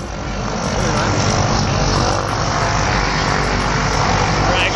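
A skydiving airplane sits with its engine running on the ground, giving a loud, steady propeller drone throughout, with some talk mixed under the roar.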